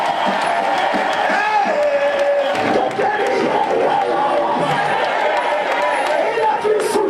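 A church congregation cheers and acclaims loudly, a sustained roar of many voices with shouts and whoops, continuous throughout.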